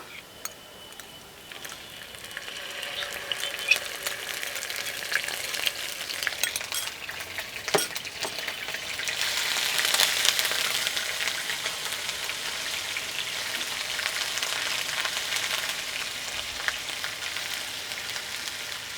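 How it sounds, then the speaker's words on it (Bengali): Onion paste frying in hot mustard oil in a pan, a steady hiss and crackle that swells louder partway through, with stirring and occasional sharp clinks. "এ পর্যায়ে দিয়ে দেব পেঁয়াজ বাটাটা"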